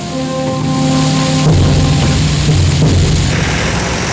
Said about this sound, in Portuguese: Duas semanas de tempestade depois do dia D também não ajudaram.